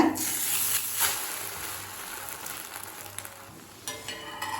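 An egg for an egg roll fries in a pan on low heat, giving a continuous close sizzle with brief stirring or scraping noises and a small burst of crackle near the end, no voice.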